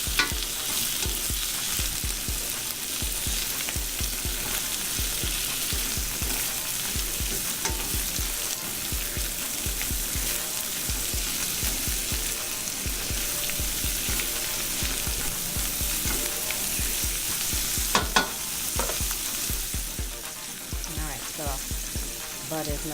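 A tablespoon of butter melting in a pan over medium-high heat for asparagus: a dense, continuous close sizzle and crackle, steady and loud throughout with a few brief louder pops near the end.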